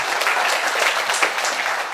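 A crowd claps steadily and loudly for two seconds, dense applause with no voices rising above it.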